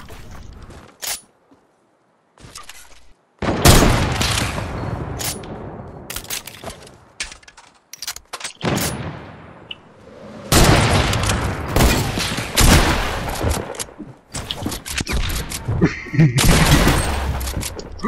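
Gunfire in the Fortnite video game, with loud bursts of shots and clusters of rapid fire that start and stop over the whole stretch, plus a short quiet gap early on. Brief voices come through between the volleys.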